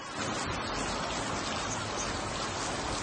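Rain falls steadily as a soft, even hiss, with no distinct drops standing out and no talking.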